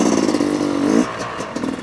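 A TM dirt bike passes at a motocross track, its loud engine drone holding steady for about a second, then dropping away as it moves off.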